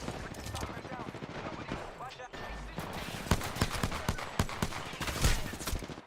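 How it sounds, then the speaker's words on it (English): Video game gunfire crackles in bursts and single sharp shots through the clip, growing louder near the end, under a steady bed of game sound effects. "They're shooting at me"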